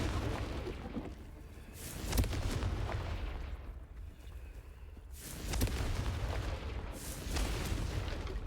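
Confringo spell explosions in Hogwarts Legacy, several heavy booming blasts recurring every couple of seconds over a continuous rumbling battle backdrop, with no talk.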